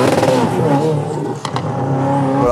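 A car launches from a standing start on a track, its engine note rising in loud, harmonic revs that fill the whole stretch, with a short shift dip midway and talk in French layered over it.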